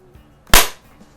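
A Beeman P17 single-stroke pneumatic air pistol fires a single sharp, loud crack close by, decaying quickly into near silence.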